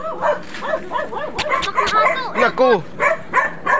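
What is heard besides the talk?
dog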